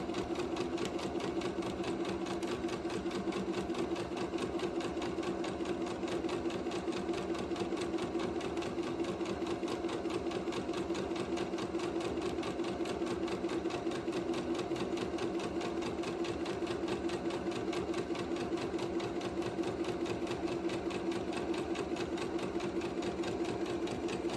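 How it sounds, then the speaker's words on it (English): A sewing machine runs steadily for about 24 seconds, stitching a 1 cm seam allowance on a cowl sleeve, starting with a back stitch; the fast, even motor whir and needle chatter are close and continuous, with no talking. "I'm going to do a back stitch first and then sew a 1 centimetre seam allowance"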